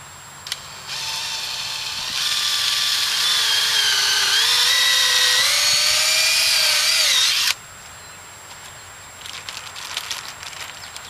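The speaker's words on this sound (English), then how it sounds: "What I'm doing is drilling into the xylem" A power drill bores holes into the trunk of an ash tree to reach the xylem for an emerald ash borer injection treatment, whining loudly and steadily for several seconds, its pitch rising under load before stopping abruptly.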